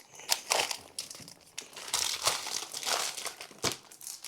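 Packets of chocolate biscuits handled up close in plastic wrappers, giving repeated crisp crinkles and crackles of varying loudness with no voice over them.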